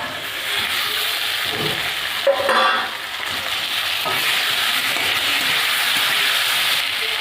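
A continuous loud sizzle of chopped chillies frying with fried potatoes in a hot pan, with a brief scrape of stirring partway through.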